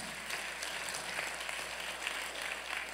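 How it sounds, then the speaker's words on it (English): Mourners at a funeral service clap together, a continuous moderate patter of many hands filling the hall, steady throughout with no talking above it. "You can clap, that's fine."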